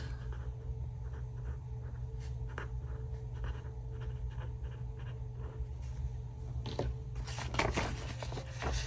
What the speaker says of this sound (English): go ahead and write while it's on the paper.